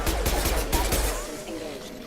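Gunfire and combat noise from the video game Mass Effect 2: a burst of shots in the first second, then quieter rumbling action, with voices talking over it.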